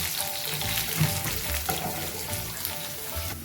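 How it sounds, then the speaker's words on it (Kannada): Potatoes frying in a pan for aloo fry, a steady close sizzle with occasional stirring scrapes throughout, no voices. "ಈಗ ನೋಡಿ ಆಲೂಗೆಡ್ಡೆ ಎಲ್ಲ ಚೆನ್ನಾಗಿ ಫ್ರೈ ಆಗಿದೆ."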